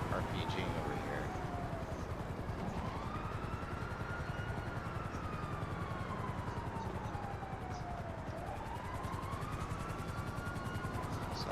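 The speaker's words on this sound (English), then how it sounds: "oh, he's got his heli" A helicopter in GTA Online, its rotor thrumming steadily with a whining engine tone that rises and falls as it manoeuvres, while a person speaks over it.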